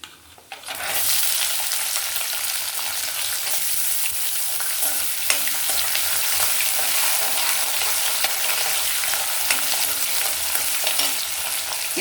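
A medium onion drops into hot oil for avarekalu uppittu and fries with a loud, continuous sizzle, stirred now and then with faint scraping ticks and no talking.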